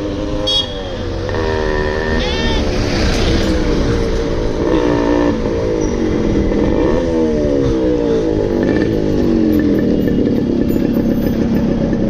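An old Royal Enfield Classic 350 motorcycle fitted with a loud L-bend exhaust pipe revs up and down close by, its deep thumping engine rising and falling in pitch throughout.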